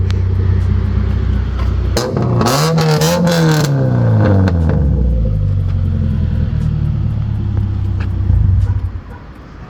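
A Subaru Impreza with a custom TIG-welded exhaust and no resonator idles with a deep rumble, then is revved hard through a burst of rising and falling engine roar before settling back to idle, loud and close.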